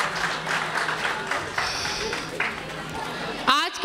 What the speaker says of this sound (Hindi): सो ज़ोरदार तालियों से उनका इस्तकबाल करें।